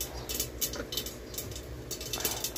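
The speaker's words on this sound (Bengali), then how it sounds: "সর্ষেটা যেই ফুটে উঠবে একটু ঢাকাটা দিয়ে দিই, নাহলে চড়বড় চড়বড় করে বাইরে সব বেরিয়ে আসে" Mustard seeds spluttering in hot oil for a tempering, heard as quiet, scattered crackles and sharp little pops over a low background, with no talking.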